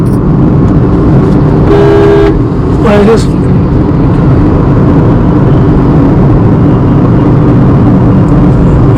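Two short car horn toots in quick succession over loud, steady highway road and engine noise.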